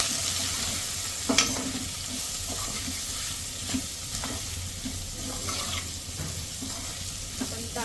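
Homemade masala is stirred into kadhi khichdi in a pot: a soft, steady sizzle with scraping spoon strokes and occasional light knocks against the pot, close by.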